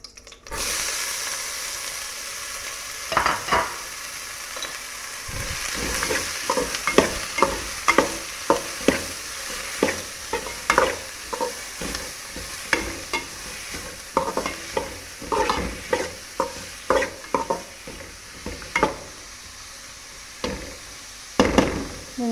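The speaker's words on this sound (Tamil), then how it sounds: "வெங்காயம் கொஞ்சம் நல்லாவே வதங்கட்டும். நல்லா வதக்கி விட்டுக்கோங்க." Chopped large onions sautéing in hot oil for a mutton pepper gravy, a steady sizzle broken by repeated scraping stirs of a spoon against the pan, close and fairly loud with no voices.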